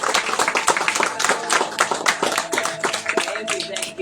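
A congregation at a Hindi Christian worship gathering claps loudly for Jesus. Dense, sustained rapid applause runs throughout, with some voices mixed in.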